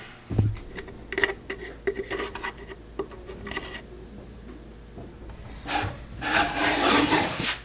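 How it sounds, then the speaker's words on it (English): Rubbing furniture wax into the grooves of a wooden drawer in a small shop cabinet, a close run of dry scraping and rubbing strokes in uneven bursts, growing louder and more continuous toward the end. "let's try a bit of furniture wax in those grooves"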